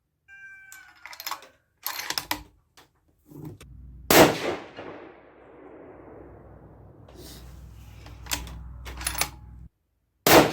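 A single 6.5 PRC rifle shot from a Bergera B14 firing Berger 140-grain Hybrid Target bullets at a range: a sharp report followed by a long, fading rumble, with scattered clicks and handling noises before it.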